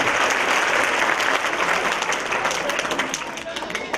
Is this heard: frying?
no